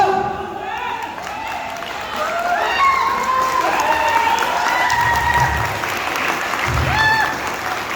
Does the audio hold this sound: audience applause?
yes